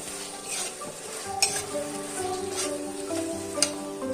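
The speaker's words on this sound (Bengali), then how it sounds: "দিয়ে আবারও কিছুক্ষণ আমি নেড়ে নেব" Spoon scraping and stirring through a spice paste with a little sugar in a Bengali kadai, a steady low sizzle under the strokes with a couple of sharp metal clinks against the pan; no talk.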